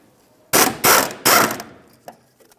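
Ratchet wrench loosening a 10mm bolt on a rear shock mount of a 2012-2020 Ford Focus: two loud bursts of rapid clicking close by, followed by a couple of faint metallic taps.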